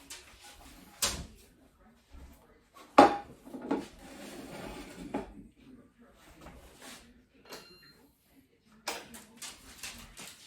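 A lid lifted off a hot pot of green pea soup: sparse metallic clanks and knocks of cookware, with one sharp clatter and scattered handling noises between quiet gaps.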